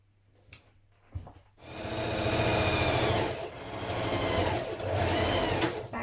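A sewing machine stitches a seam on a knit dress, a few quick stitches and pauses at first, then a steady, fast, rhythmic whirring run that eases briefly before continuing.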